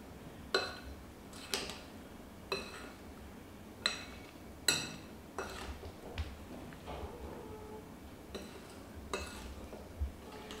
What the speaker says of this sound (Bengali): সবগুলো মিশিয়ে নেব।